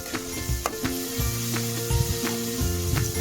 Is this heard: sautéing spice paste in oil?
yes